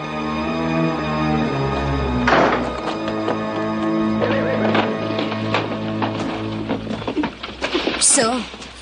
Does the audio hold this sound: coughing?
no